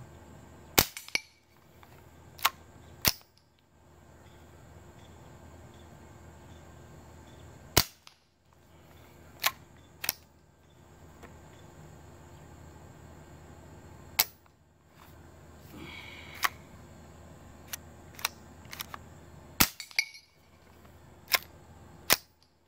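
Aguila .22 Super Colibri rounds fired during backyard plinking, a series of sharp quiet cracks like cap-gun pops, sometimes single and sometimes in quick pairs, spaced irregularly over faint outdoor background with no talking.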